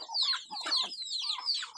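Desi chickens cluck busily while pecking at papaya fruit, giving a close string of short, rapid clucks and chattering calls with no talking.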